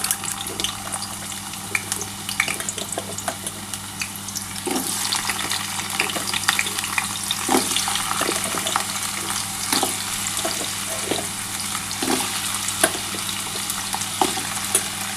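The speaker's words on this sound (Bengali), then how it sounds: "আমার কিন্তু আলুটা কিন্তু আমি ভেজে নিচ্ছি।" Potatoes fry in hot oil in a pan, a dense, loud, continuous crackle and sizzle with frequent sharp pops, close throughout and with no talking.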